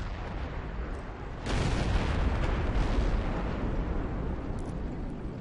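A tank cannon shot from the Yak Pz. 100 in World of Tanks booms in at about 1.5 seconds, a sudden loud broadband blast that holds over a dense rumbling battle backdrop.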